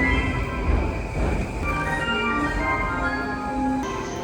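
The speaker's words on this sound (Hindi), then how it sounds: "तो अभी हम यहाँ की मेट्रो पकड़ेंगे" A metro train in Japan rumbling along, a steady close mechanical hum and rattle with faint squealing wheel tones, continuous and moderately loud, with no talking.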